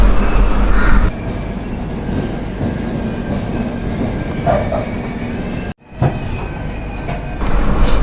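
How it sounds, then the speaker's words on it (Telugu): A Tirumala Express passenger train on the Vizag to Tirupati run rolls into a station with a steady, close rumble of carriages. It drops out briefly near the end, then the rolling noise returns. "సో స్టేషన్లో అయితే ట్రైన్ ఆగింది ఫ్రెండ్స్."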